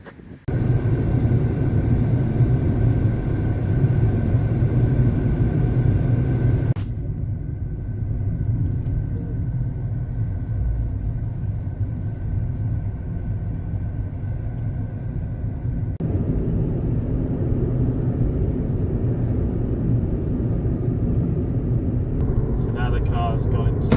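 The 1-litre Kia Stonic hire car juddering under acceleration, heard from inside as a constant, heavy low rumble that shifts in level a couple of times over about twenty-four seconds.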